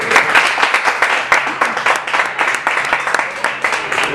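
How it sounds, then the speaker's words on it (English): An audience breaks into loud, dense applause at a live comedy show, a continuous burst of many clapping hands heard close and alone for several seconds. "Give a round of applause."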